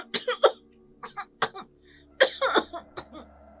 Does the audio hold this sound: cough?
yes